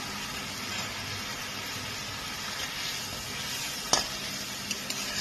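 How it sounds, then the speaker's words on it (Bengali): Masala of salt, green chillies and tomato fries in a pan for a pointed gourd curry, a continuous low sizzle with one sharp scrape of a spatula and a couple of light taps near the end. "মশলাটাকে আমি একটু কষিয়ে নিচ্ছি।"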